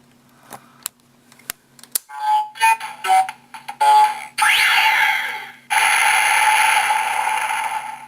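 A Kamen Rider Fourze Driver transformation belt toy plays its Rocket switch effect: a few sharp clicks, then a loud electronic burst of synthesized sounds and a rising launch whoosh, followed by a sustained bright electronic tone, all close and alone.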